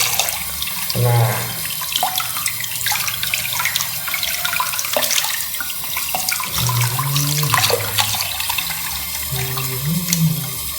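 Water runs from a faucet into a sink while a pet hamster gets a bath, a steady splashing stream with a voice talking over it.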